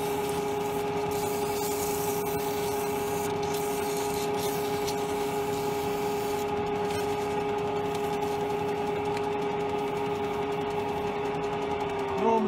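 A wood lathe spins while the turning is sanded with 240-grit sandpaper, giving a steady, close mechanical hum and whir with faint scratchy rubbing, and some talking over it.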